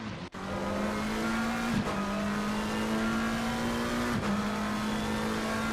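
Race cars in Assetto Corsa Competizione lap Laguna Seca, including a McLaren passing a slower car in 11th; a steady, loud engine drone holds throughout, with two brief dips as gears shift.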